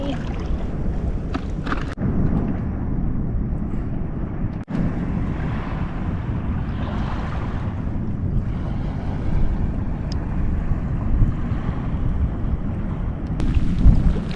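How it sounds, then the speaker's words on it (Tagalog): Rain and wind at night at low tide, a steady rushing roar of gusts with rumbling low noise and a few sharp knocks, continuous and fairly loud, no speech. "Inuulan na kami."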